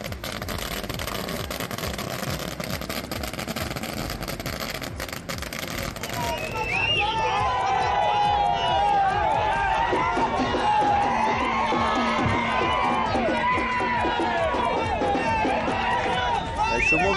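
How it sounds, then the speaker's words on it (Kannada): Cricket fans at Chennamma Circle in Hubballi celebrating India's Champions Trophy win, a dense roaring crowd of cheers, whoops and shouting youths, loud and continuous throughout, with a busier, harsher stretch at the start. "ಹುಬ್ಬಳ್ಳಿ ಚೆನ್ನಮ್ಮ ವೃತ್ತದಲ್ಲಿ ಅಭಿಮಾನಿಗಳ ಹರ್ಷೋದ್ಗಾರ ಮುಗಿಲು ಮುಟ್ಟಿತ್ತು"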